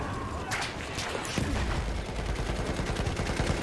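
Battlefield 1 combat where mortar rounds are fired and land amid dense gunfire, with sharp cracks and rumbling booms in the first half and then rapid, continuous shooting close by.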